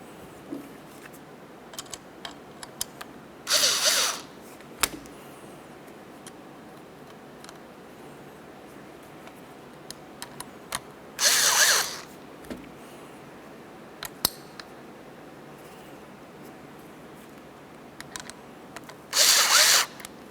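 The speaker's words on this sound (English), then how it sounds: "Once each of them are started, we can go ahead and snug them." A power driver snugs the mounting bolts of a window motor on a 2001-2005 Ford Explorer Sport Trac, in three short close whirring bursts spaced several seconds apart, with faint ticks and clicks in between.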